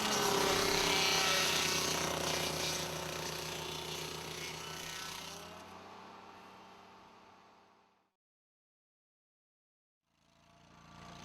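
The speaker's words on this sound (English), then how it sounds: "The Dingo Stump Grinder features button-style teeth that can be rotated to 3 positions." Dingo mini digger running a stump grinder attachment fitted with button-style teeth, a loud, dense mechanical grinding roar that fades after several seconds into silence before the engine noise returns briefly at the end.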